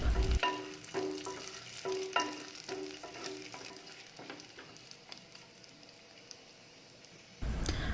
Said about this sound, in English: add chopped cashew nuts, badam, both black and green raisins, and fry them until they plump up